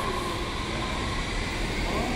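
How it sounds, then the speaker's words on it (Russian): A Berlin U-Bahn subway train rolls along with a loud, steady rumble and hum heard from inside the carriage. "Такое метро в Берлине."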